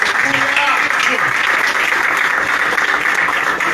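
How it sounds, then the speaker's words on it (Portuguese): Church congregation applauding during a Portuguese-language worship service, a dense continuous wash of clapping, fairly loud and close, with a voice or music faintly mixed underneath. "Aplauda o Senhor"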